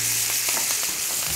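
Meat frying in a pan of butter with fresh thyme and a garlic clove, a steady close sizzle crackling throughout without pause.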